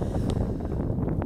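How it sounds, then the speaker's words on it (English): Outdoors on a Minnesota lake during a cold front, wind buffets the microphone with a dense, constant low rumble, close and steady for a brief moment. "the wind is blowing straight into me"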